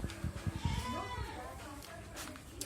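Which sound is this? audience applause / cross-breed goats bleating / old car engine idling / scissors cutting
cross-breed goats bleating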